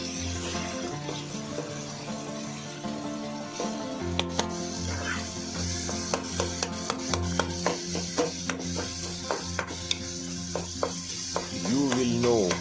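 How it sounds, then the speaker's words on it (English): Tomato masala for a chickpea chana stir fry cooking in a pan over medium heat, a steady close sizzle punctuated by sharp scraping and stirring knocks from a utensil against the pan. "Cook on medium heat for about 4 to 10 minutes until the tomato breaks down completely"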